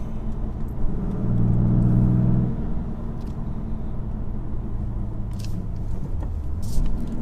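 A BMW F80 M3 driving in Sport Plus mode, a steady deep engine rumble from inside the car that swells briefly as it accelerates, then settles into a constant drone.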